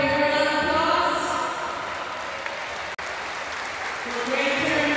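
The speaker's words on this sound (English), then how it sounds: "Give them one more big round of applause" An audience at a youth sports tournament final applauds continuously, a dense close clapping that eases slightly partway through and swells again at the end, with no talking over it.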